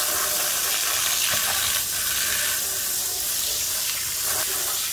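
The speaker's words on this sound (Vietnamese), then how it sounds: "Xả lại nước lạnh nè." Steady cold water pours from a tap close by over noodles, a continuous splashing rush with no talking.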